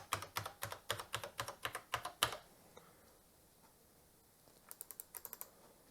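Keys on an Atari Mega ST 4 keyboard typed during a diagnostics test, a fast close run of sharp clicks that stops, then a short burst of further taps after a quiet gap.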